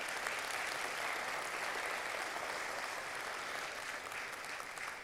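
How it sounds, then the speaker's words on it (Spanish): A church audience applauds its teachers with steady, dense clapping that holds at an even level throughout, with no voices standing out above it. "Yo quiero que le demos un fuerte aplauso a cada uno de ellos"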